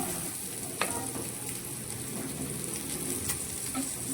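Tomato, garlic and ginger masala frying in a pan gives a steady, close sizzle, with a few light clinks of stirring and no talk.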